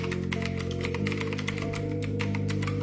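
Steady typing on a full-size 100% mechanical keyboard, a fast run of crisp clicks and clacks close up, continuous and fairly loud with no talking.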